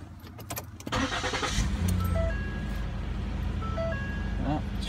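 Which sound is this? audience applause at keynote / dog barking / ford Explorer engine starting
ford Explorer engine starting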